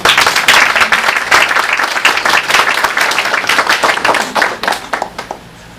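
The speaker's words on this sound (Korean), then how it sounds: "박수 한번 주십시오." An audience at a 2016 theatre award ceremony gives sustained, dense applause with many hands clapping; it stays loud for about five seconds and then tapers off.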